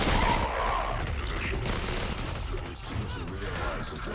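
Pistol and submachine gun fire from dual-wielded weapons in the video game SPRAWL, a dense, noisy stretch of overlapping shots and bursts at steady loudness, with no clear speech.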